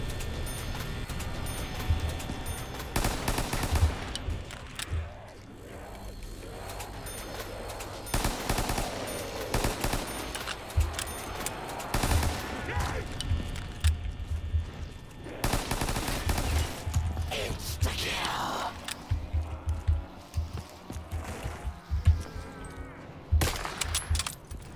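Repeated bursts of gunfire from the Call of Duty Black Ops 3 zombies mod, with a Five Nights at Freddy's theme, loud and close, with dense volleys spread through the whole stretch and short gaps between them.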